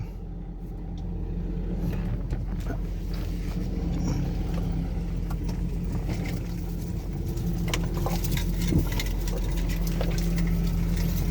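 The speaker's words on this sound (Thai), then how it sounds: "เดี๋ยว เอา รถไปจอดที่อื่นก่อน" A car engine runs steadily nearby as the car pulls away to park elsewhere, a continuous low rumble holding at an even level for the whole stretch, with faint scattered background noises and no talking.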